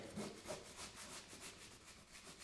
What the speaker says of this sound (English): all we're going to do is sand it